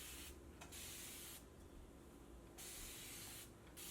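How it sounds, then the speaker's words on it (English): A fine-mist spray bottle sprays a curly wig to tame flyaways, giving three close hissing bursts separated by short pauses, with no talk. "As you can see how many times I've sprayed my hair"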